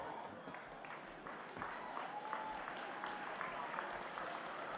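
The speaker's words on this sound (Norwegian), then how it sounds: "du kan fortsette å klappe og klappe inn på siste gruppa" An audience applauds steadily for the closing folk-music group, Dølalete, at the national folk music festival in Skjåk, a dense, continuous wash of many hands clapping that swells slightly partway through.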